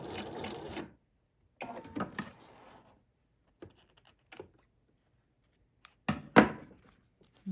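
A sewing machine back stitches a fabric tuck in short, separate bursts of stitching with clunks and pauses between them, close and fairly quiet.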